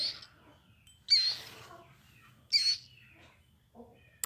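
A baby killdeer chick gives a few short, high chirps in separate bursts while being hand-fed, close and fairly quiet against a still background.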